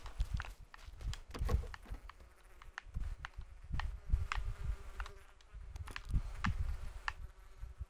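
Insects buzzing around a player in PUBG, buzzes passing close and loud mixed with low thumps and footstep-like sounds.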